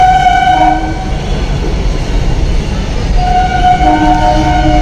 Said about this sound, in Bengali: একটা ট্রেন ছাড়লো, এটা হচ্ছে এসি ট্রেন